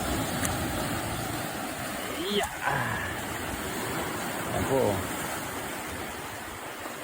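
Steady broadband roar of rough sea waves crashing along a rocky shore during monsoon weather, with someone speaking briefly over the constant wash of water.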